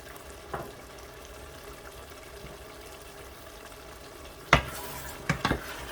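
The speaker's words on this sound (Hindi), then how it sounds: "और एक बार फिर इसको अच्छी तरह से मैं भूनूँगा" Meat masala with coriander and green chilies fries in oil under a steady low sizzle, then a few sharp scrapes and clanks of stirring break in near the end.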